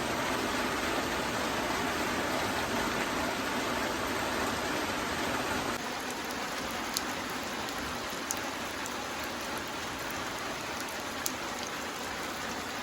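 Steady rain falling outdoors where cattle are kept, a dense, close hiss of drops on surfaces that holds throughout, easing slightly partway with a few sharp ticks, no talking.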